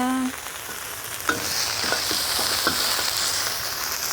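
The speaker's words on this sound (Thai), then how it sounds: "นำหมูเด็ดเดียวลงไปผัดเลยค่ะ" Sun-dried pork stir-frying in a pan, a steady close sizzle with light scraping stirs, heard alone without talk.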